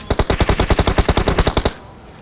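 Automatic gunfire in PUBG, a rapid burst of about fifteen sharp, loud shots at an even rhythm lasting under two seconds, then stopping abruptly into quiet.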